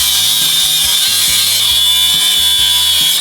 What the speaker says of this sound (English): Cut the head of the bolt off now, hopefully.